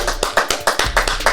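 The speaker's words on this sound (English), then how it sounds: "Let's clap it up for him, man." A small group claps for a podcast guest in a quick, close burst of applause lasting just over a second, with no talking over it.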